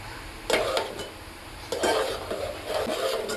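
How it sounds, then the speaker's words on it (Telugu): A spoon scrapes and stirs a thick sweet mixture cooking in a pot, with repeated close strokes and clinks against the metal and a soft bubbling simmer underneath, with no talking. "కొంచెం కలుపుతూ ఉండాలి, లేకపోతే ఉండకట్టేస్తుంది, అడుగు పట్టేస్తుంది"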